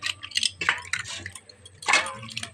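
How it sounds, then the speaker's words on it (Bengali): A conch-shell bangle is rinsed by hand in a basin of clean water, giving close, irregular splashes and drips with light clinks against the basin, louder bursts near the start and again toward the end. "আর দেখো এবারে পরিষ্কার জল নিয়ে নিয়েছি গামলায়, এবার শাঁখাটা ধুয়ে নেবো"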